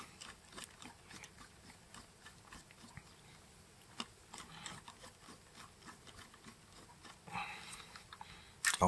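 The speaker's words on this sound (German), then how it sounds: "Schrauben die dritte rein." A screw is driven by hand into the plastic housing of an INSTAR IN-9408 2k+ surveillance camera, giving faint, close clicking and scraping ticks at an irregular rhythm in a quiet room.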